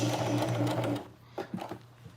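A sewing machine stitches slowly along the edge of denim jeans, running close and steady for about a second before stopping, followed by a few soft handling clicks.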